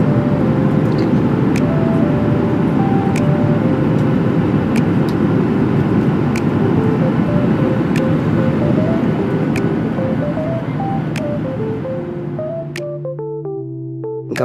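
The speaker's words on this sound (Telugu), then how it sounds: "ఇంకా పైకి తీసుకెళ్తున్నాడు ఫ్లైట్ పైలట్." Inside a passenger airliner climbing out after takeoff from London, a loud steady cabin roar of engines with a faint rising tone, fading slightly near the end, and a few soft clicks and chimes.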